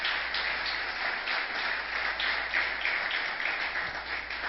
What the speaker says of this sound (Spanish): Dele al Señor ese aplauso más fuerte,